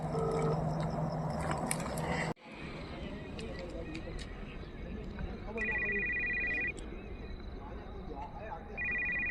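A phone's electronic ringtone sounds in two tonal bursts a few seconds apart, with a background murmur of voices.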